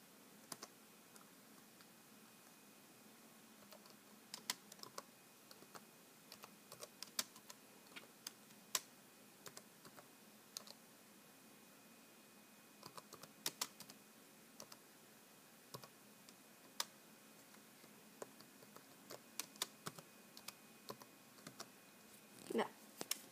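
A computer keyboard tapped in irregular bursts as a message is typed, quiet and close, with sharp clicks spread over a steady low room hiss.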